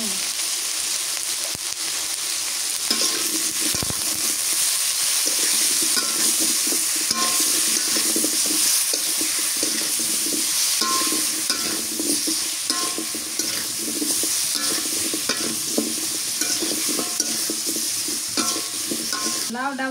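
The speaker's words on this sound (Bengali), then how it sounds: "লাউটা ভাজা নিতেছি" Pieces of bottle gourd seasoned with turmeric, chili powder and salt fry in a pan, a continuous close sizzle broken by the scrape and knock of a stirring utensil throughout.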